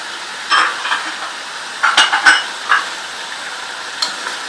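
Cumin, salt and spices sizzling in a pan while being stirred for an onion chicken dish, a soft steady sizzle broken by a few clinks and scrapes of the spoon against the pan.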